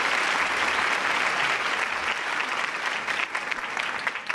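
An audience claps to welcome the education minister, dense sustained applause from a crowd close by, steady for the whole stretch with no voices over it.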